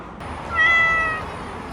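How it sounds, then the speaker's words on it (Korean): A friendly cat met at a roadside rest stop during a motorcycle trip in Damyang gives a single short, close meow over steady outdoor background noise. "개냥이야 너?"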